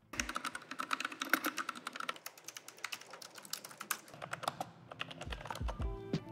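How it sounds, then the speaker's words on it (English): Close keyboard typing on Freewrite smart typewriters, the Smart Typewriter, Traveler and Alpha models, gives a steady rapid stream of soft clicking keystrokes that thickens into a denser run toward the end. "Here is how each of the keyboards sound."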